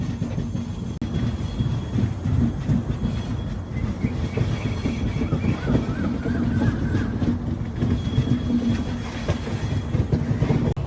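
Passenger train on the Kacheguda to Bhagat Ki Kothi run rolling steadily along the rails, a continuous loud rumble with rhythmic clickety-clack from the wheels, heard from inside the carriage with no talking.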